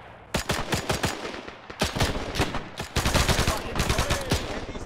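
Machine gun fire in Arma 3 rings out in rapid, sharp bursts of shots, loud and close, with short pauses between volleys and a denser stretch toward the end.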